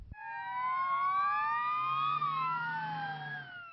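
An ambulance siren sweeps slowly up and down in long wails on an ambulance driver training course, steady and fairly loud, with a low vehicle rumble underneath.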